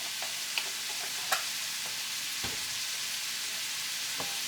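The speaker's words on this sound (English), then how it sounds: "Me, I'm going to add a smidge of broth" Liquid broth poured into a hot pan, setting off a steady sizzle and frying hiss with a few faint clicks and taps, fairly quiet and alone.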